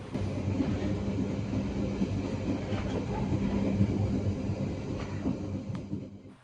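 The Kertajaya passenger train rolls along with a steady low rumble and rattling wheels, the noise continuous and fairly close throughout.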